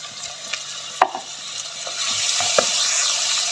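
Ginger garlic paste and tomatoes fry in hot oil with a steady, close sizzle, broken by a few sharp stirring clinks and scrapes.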